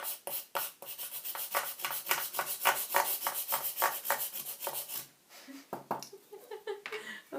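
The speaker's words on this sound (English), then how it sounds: "I'm going to grate it a bit" Plaster block being grated with a fine micro cheese or nutmeg grater for printmaking, a quick run of rhythmic rasping strokes, close and fairly loud, easing into softer scratches with a little breathing near the end.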